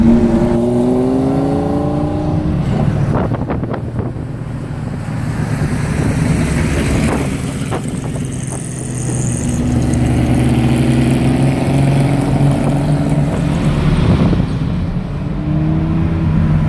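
Several cars in a convoy heading to the beach drive past nearby, their engines idling and revving with rising and falling tones that overlap throughout.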